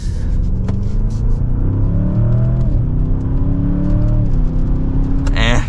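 A 2024 Audi S8 pulls away under acceleration, its steady engine drone rising in pitch through gear changes over continuous cabin road rumble, heard from inside the car at close range.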